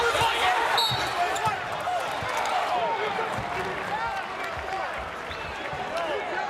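A college basketball arena crowd at a Providence vs. Belmont game gives off a steady roar, with sneaker squeaks and ball bounces on the court and a voice talking over the noise.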